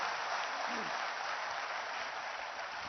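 Steady applause from an audience at a political gathering honoring the chief minister, a dense continuous clatter of many hands, moderately distant and uniform throughout.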